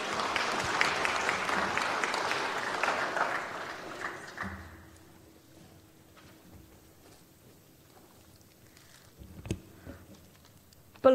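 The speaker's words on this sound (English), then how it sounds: "A round of applause for Alexia Hilbertidu." An audience at the Prime Minister's Pacific Youth Awards 2019 applauds an award recipient. The clapping is full and dense for about four seconds, then fades into near silence broken by a few faint stray sounds.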